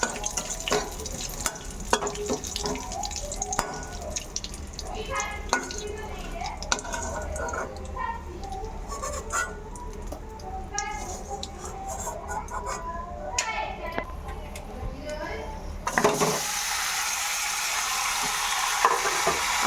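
Chicken frying in a little oil with cumin seeds, whole garam masala, garlic paste and sliced onion, stirred with repeated scraping and clattering over a continuous sizzle, close and busy, with a voice speaking at times.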